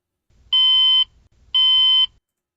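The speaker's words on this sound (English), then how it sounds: "Alert, alarm." A trading platform alert sounds two identical clear electronic beeps, each about half a second long and evenly spaced, loud and close over a quiet low background hum.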